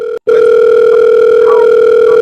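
Steady, loud phone-line tone on a live talk show's call-in line, a continuous electronic hum broken once by a short gap near the start, then running on unchanged.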